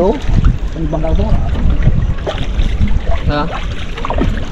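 A small boat on the water during a shrimp-catching outing gives a steady, rough noise with wind buffeting the microphone, continuous under people talking nearby.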